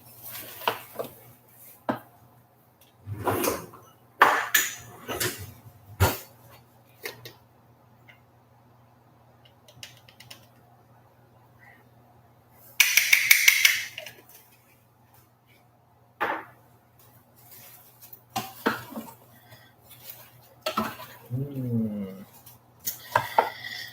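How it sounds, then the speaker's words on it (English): Food is stirred in a pot in a home kitchen, heard as scattered clinks and scrapes of a utensil against the metal, some loud and sharp, with quiet gaps between them and a low hum underneath. "Just going to stir this around."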